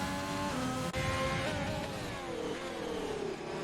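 Formula 1 race car engine in a racing video game at the Hungarian Grand Prix, DRS open, screaming at high revs with a steady tone that shifts through gears, loud and alone with no talk.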